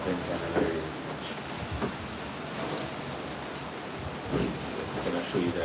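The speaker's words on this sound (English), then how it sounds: "I don't want to spend time in the rain too much." Rain falls steadily in Spanish Town, Jamaica, during Hurricane Melissa, a constant hissing wash with occasional heavier patters.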